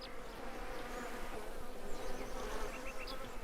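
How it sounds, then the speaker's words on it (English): Angry bees in the farming video game Farmers Dynasty give off a steady, dense buzzing drone that is fairly faint, with small high chirps scattered over it. "them bees sound, they sound like they're angry"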